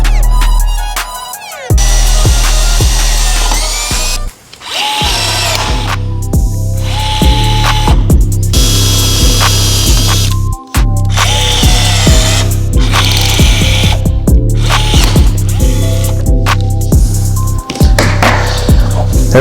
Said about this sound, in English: I'll mark these, drill them, and then just use the supplied rivets to get them on